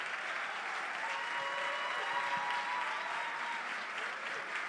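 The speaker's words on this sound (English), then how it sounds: "one more big round of applause for the rare disease champions" A crowd at an athletes' awards and draft event claps steadily, a sustained wash of applause heard from a distance at moderate volume.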